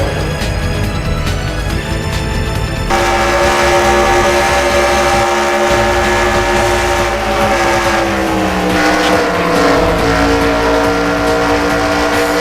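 Onboard race car engine from a California round of a racing video game, loud and continuous, holding a high whine before shifting up and climbing again through the gears.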